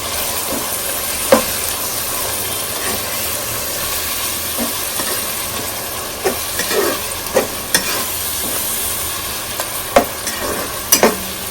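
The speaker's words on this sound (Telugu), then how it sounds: "ఇప్పుడు ఇవన్నీ ఒకసారి మిక్స్ చేసుకుందాం" Fish biryani ingredients with coriander being stirred in a hot pan, a continuous hiss of sizzling under irregular scraping and clanking strokes of the spoon, close by and with no voices.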